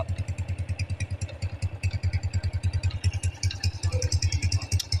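A Honda Wave 110i motorcycle with a loud modified exhaust runs close by, its rapid, steady engine pulses thumping throughout, rising slightly in intensity near the end.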